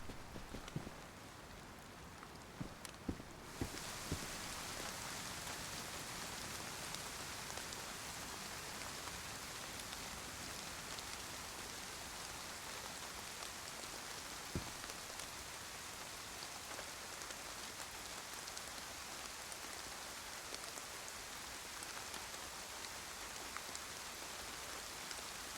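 Dense, continuous rain is heard from indoors in a roleplay game, a loud, even hiss of drops drumming on a surface that holds for about twenty seconds, with a few faint knocks early on and no talking.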